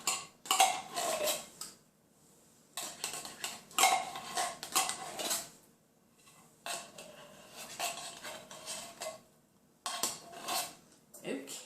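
A metal spoon scrapes and clinks inside a can of condensed soup in several loud bursts separated by quiet gaps, close to the microphone.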